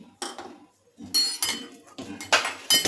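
A metal kadai is set down on a gas stove with a series of sharp metallic clanks and scrapes, several bursts of clattering separated by short pauses, close and fairly loud, with no talking.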